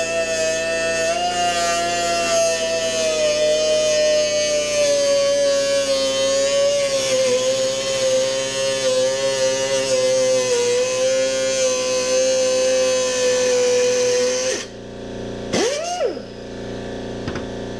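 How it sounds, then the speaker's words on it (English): A cutoff wheel slices slowly through carbon fiber for paintball grips, a loud, steady high-pitched whine with a sustained tone that holds for about fifteen seconds before the tool spins down and stops, followed by brief handling noise. "take your cutoff wheel, and once again, very slow"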